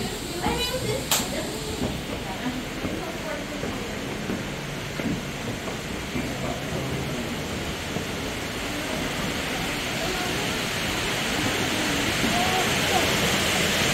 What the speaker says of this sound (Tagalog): Ayan, yan po yung waterfalls.